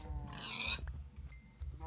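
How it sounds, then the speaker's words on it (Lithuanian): Pigs in the video game Minecraft give short, quiet grunts and oinks at low volume, with a brief higher squeal partway through. "Kiaulės."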